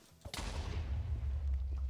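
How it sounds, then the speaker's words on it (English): Explosions in the video game Minecraft: a sudden loud blast followed by a sustained deep rumbling roar that carries on to the end, with no speech over it. "The amount of explosions I'm not jiving with necessarily."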